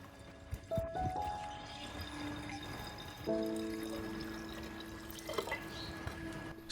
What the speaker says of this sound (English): Pour 500 milliliters of water.